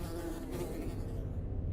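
A fly buzzes in a graveyard scene of a Metro video game, a faint, steady insect hum low in the mix under dim background ambience.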